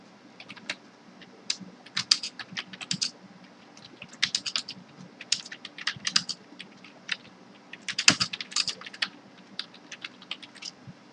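Quiet bursts of typing on a computer keyboard while writing PHP and jQuery code, irregular clusters of crisp key clicks separated by brief pauses, with a sharper louder keystroke near the end.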